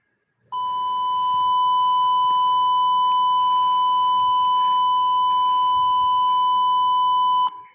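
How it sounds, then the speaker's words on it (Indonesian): A buzzer on a prototype automatic parking barrier, whose servo-driven gate opens when an ultrasonic sensor detects a car, gives one steady, loud, continuous electronic beep lasting about seven seconds with a sharp start and stop. "servo pada palang pintu ini akan otomatis terbuka dan buzzer akan menyala"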